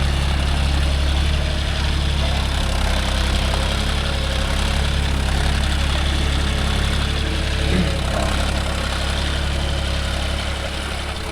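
A John Deere 5050D GearPro 4WD tractor drones with a loud, continuous heavy engine note as it pulls a 9-tine arm cultivator through sandy soil, steady throughout with no voices.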